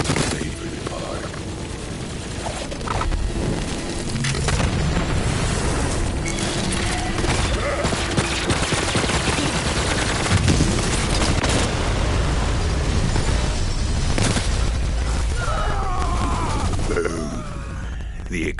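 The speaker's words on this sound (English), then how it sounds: "The explosion echoed through the forest" Bombs explode amid heavy gunfire in the video game Borderlands 3: a dense, loud barrage of booms and shots that continues without a break.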